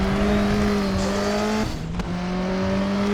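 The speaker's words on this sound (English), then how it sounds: "Beautiful Volvo turbo sound." Volvo touring race car with a turbo engine at Laguna Seca, holding a steady loud tone that drops in pitch briefly around a gear change, then settles again, with no talking.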